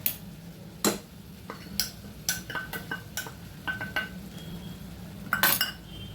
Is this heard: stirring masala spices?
yes